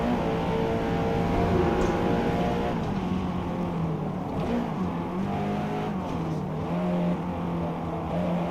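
Race cars from the Forza racing video game drive past with a continuous engine drone, shifting pitch as they accelerate and change gear, loud and steady throughout.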